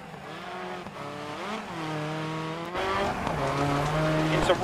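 A Lancia Delta S4 rally car driving a stage in Wales, its engine revving loudly and climbing through gears, pitch rising and dropping with shifts, close and alone.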